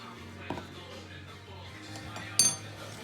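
Chicken gyros marinade being stirred in a bowl with a utensil, giving a couple of faint, sharp clinks against the bowl over a quiet kitchen background.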